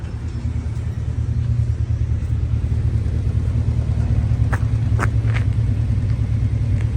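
The 2.2 litre engine of a street car idles after adjustment, a steady, loud low-pitched rumble with a fast, even pulsing beat and a few faint metallic ticks over it.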